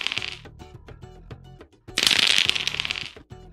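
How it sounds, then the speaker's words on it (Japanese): Dice-roll sound effect from the Classroomscreen dice widget: rapid clicky rattles tumble in short bursts, swelling into a dense clattering flurry midway before settling into a few final taps, close and clear with no voice. "ウィジェットのアイコンをクリックすると、サイコロを振ることができます。"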